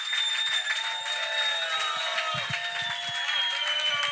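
An audience at a comedy showdown claps for a comedian, with dense, steady applause filling the whole stretch and a few bright tonal lines running through it.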